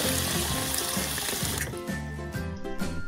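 Water runs steadily from a tap as a sound effect for watering the lawn, loud and close, rushing continuously before thinning to an uneven trickle near the end.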